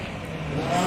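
A BMW M5 on standard road tires revs hard during a gymkhana figure-eight run, the engine note rising loud and close over a short burst.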